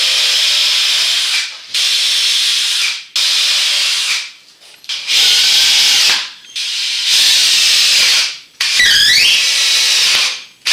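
A power drill driving screws into a homemade greenhouse frame, close and loud, in several separate bursts of whirring, each lasting a second or two with short pauses between, and the last burst winding up and down in pitch.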